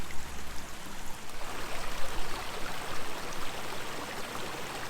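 Spring water flows steadily beside a campsite on the Buffalo River Trail in Arkansas, a broad continuous rush and trickle heard up close with no voices.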